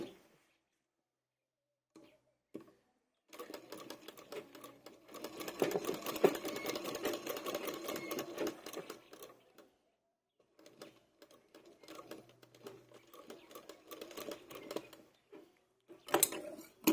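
Sewing machine stitching a garment, running in two long bursts of steady rapid clatter separated by a short pause, with a few brief taps before and a final short burst at the end; no talking over it.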